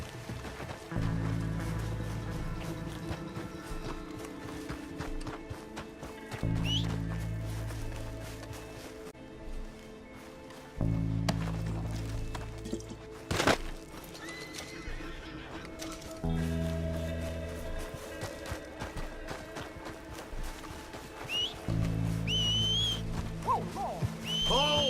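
Horse hooves gallop in Red Dead Redemption 2 as a steady, moderately loud run of repeated hoofbeats that continues throughout over a tonal in-game backdrop.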